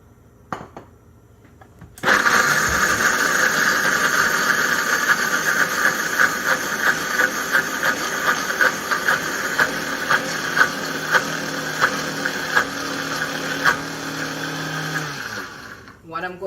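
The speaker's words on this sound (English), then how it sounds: "And we are going to blend this." A countertop blender grinds walnuts with tamari and water for a vegan lasagna, starting abruptly after a moment of quiet and roaring steadily and loudly with small fluctuating surges until it cuts off near the end.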